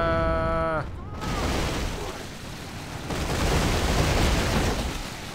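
Artillery fires at fortress gates during a siege battle in the strategy game Third Age: Divide & Conquer. Heavy rumbling booms and crashing impacts roll on continuously after a short tonal cue, with game sound and battle noise beneath.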